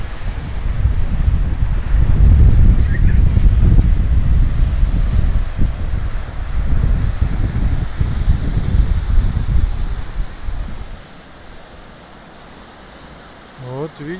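Strong autumn wind gusting along a Baltic seaside promenade in Kaliningrad, roaring and buffeting the microphone for about ten seconds before easing to a quieter rush near the end.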